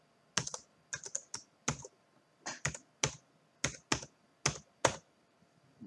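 Someone typing on a computer keyboard while filling in a registration form. About a dozen separate clicks and short bursts of keys come at an uneven pace, close and clear, with no talking.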